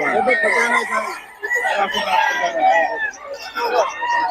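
Young stag gamecocks at a rooster farm crow and cluck nearby, their calls mixed with overlapping Tagalog chatter from people standing close.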